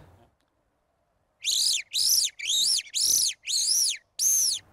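A wooden hunting call imitates a bird's shrill distress cry: six rapid, piercing, whining squeals in quick succession, close and loud after a brief quiet start.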